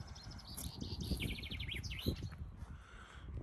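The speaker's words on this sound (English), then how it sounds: "Bird's happy today." A bird sings from a pear tree outside near an outhouse and summer shower, bright chirping phrases repeating over a steady low rumble of wind or motion noise, moderately close and fairly clear.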